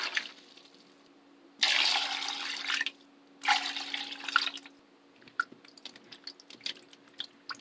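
Soaked young radishes for Korean kimchi draining, giving two broad rushing bursts of water, each a second or more, followed by scattered faint drips and small splashes, fairly quiet with no talk.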